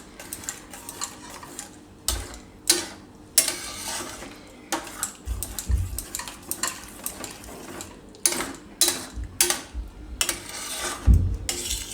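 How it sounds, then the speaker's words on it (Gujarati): A spoon scrapes and clanks against a pan while Jain pav bhaji masala is stirred into the mix, with irregular metallic knocks and scraping strokes, close and fairly quiet. "બધું મિક્સ કરી લેવું"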